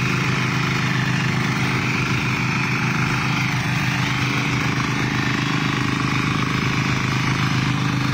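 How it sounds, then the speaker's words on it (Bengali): Several mini power tillers of around 6 to 12 horsepower run together in a field, making a steady, loud, overlapping engine drone throughout with no pauses. "আজকে যে এতগুলা মিনি পাওয়ার টিলার একসাথে চলছে, বেশ দারুণভাবে চলছে,"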